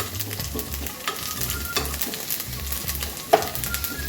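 Pieces of coconut frying in ghee until brown for banana payasam, a steady close sizzle with a spoon stirring and scraping the pan, plus one sharp clink near the end.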